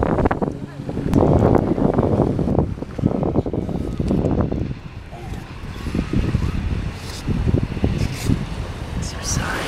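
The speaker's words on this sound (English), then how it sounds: "How windy it is." Strong seaside wind buffets the microphone in loud rumbling gusts, easing off partway through, while people talk over it.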